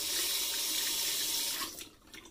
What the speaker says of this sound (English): I'll rinse it